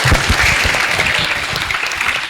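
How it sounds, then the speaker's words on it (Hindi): A classroom of students bursts into a short round of clapping, with many hands striking in a dense, close, lively patter for a couple of seconds. "एक बार ताली बजा दो।"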